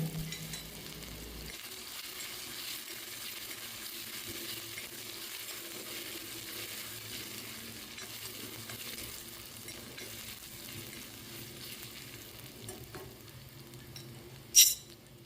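Shallots sautéing in olive oil with crushed ginger and garlic, a steady soft sizzle with faint stirring scrapes and a brief louder clink near the end, no talking.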